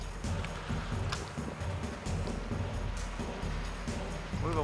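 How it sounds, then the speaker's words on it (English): Strong wind roars steadily during a supercell squall, a loud, continuous rushing with gusty buffeting on the microphone and faint rattling. "Look at how heavy the wind is. See how fast it's blowing?"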